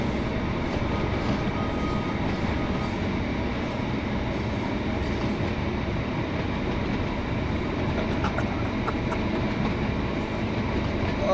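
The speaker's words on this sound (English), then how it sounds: "Oh, it's a runaway train." Train running in the Train Sim World 2 video game, a steady, loud rumble of wheels and engine with faint clickety-clack, continuous and close for the whole stretch, no talk.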